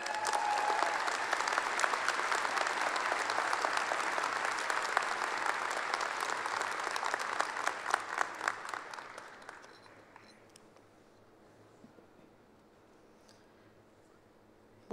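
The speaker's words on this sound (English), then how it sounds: "Will you all please join me in giving one more round of applause to Dr. David Pyle." A commencement audience applauds the keynote speaker, Dr. David Pyle, at a fall graduation ceremony. The clapping is dense and sustained for about nine seconds, then thins out and fades to near silence.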